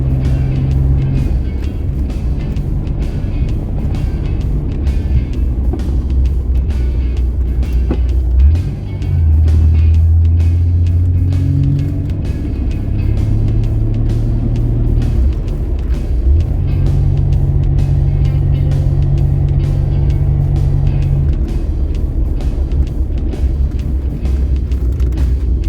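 A Ford Taunus Coupe Fastback engine drones steadily from inside the car on a test drive. The low, even hum holds throughout, with slight shifts in pitch as speed changes.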